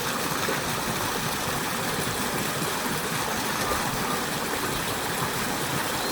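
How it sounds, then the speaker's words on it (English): Steady rush of water pumped through an outdoor waterfall fountain in a seating area, a continuous broadband splashing roar at even loudness with no voices over it. "The water is just pumping"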